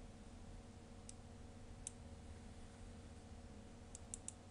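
Mouse clicks while setting up conditions in a game design tool, a few faint, sharp clicks scattered over low steady background hum, with no talking.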